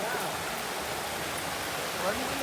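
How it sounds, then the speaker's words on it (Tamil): A small waterfall pours steadily into clear blue water at an inland beauty spot near Nagercoil, making a continuous broadband rush that holds an even level throughout with no clear breaks. "நல்லா பெரிய ஃபால்ஸாக தான் வரும்னு நினச்சோம். இங்கே வந்து கொஞ்சம் சின்னதாக தான் இருக்குது."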